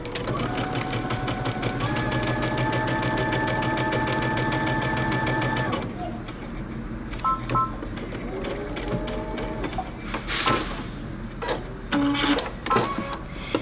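Sewing machine stitching a dress facing from the bottom up with a 5/8 inch seam allowance, a steady close whir for about six seconds, then scattered clicks, knocks and short mechanical taps as the fabric is handled.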